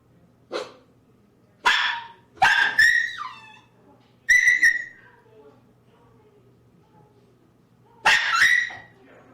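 Dogs indoors giving several sharp barks and yelping whines in separate bursts with silent pauses between, loud and close, the last burst drawn out into a whining yowl.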